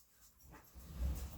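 Dogs romp close by, their soft breathing and panting swelling toward the end of a short burst of low, rumbling activity with no talking.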